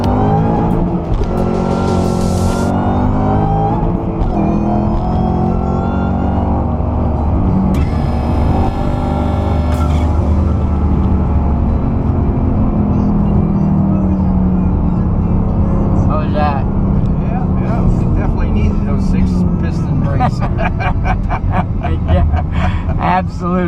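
A Ford GT500 does a burnout, its engine roaring loud and sustained with rising and falling revs and a tire squeal screeching over it, while voices talk in the background.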